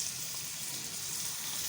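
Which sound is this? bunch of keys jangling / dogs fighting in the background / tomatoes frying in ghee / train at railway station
tomatoes frying in ghee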